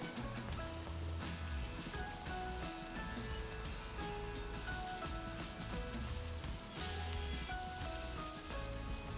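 Thinly sliced onions with salt cooking in a pan, a continuous soft hiss and fine crackle like light rain, steady and fairly quiet throughout with no talking.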